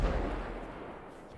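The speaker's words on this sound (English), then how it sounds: "I can't hear anything with the explosions" Heavy explosions boom in a GTA V roleplay session. One loud low blast opens, then a rumbling tail fades across the clip with no clear voices.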